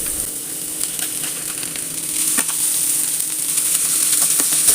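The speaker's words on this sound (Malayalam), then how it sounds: "ഒന്ന് നല്ലോണം ആ ഉള്ളി ഒന്ന് സോഫ്റ്റ് ആവണ വരെ നമുക്കിതൊന്ന് വഴറ്റിയെടുക്കാം." Onions sautéing in a pan, a steady close sizzle and crackle with scattered pops throughout, no voices.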